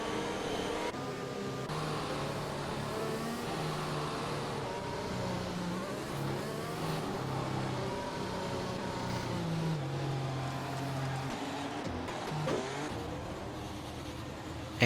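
Race cars driven at racing speed in a racing video game on the Spain circuit: a steady, moderately loud engine drone with shifting pitch, with no talk over it.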